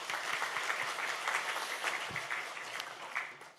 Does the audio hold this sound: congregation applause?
yes